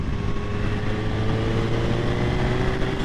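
A 2022 Suzuki Hayabusa motorcycle pulls hard in sixth gear, its engine a steady, dense drone with rising tonal whine under rushing wind noise, holding loud and constant throughout.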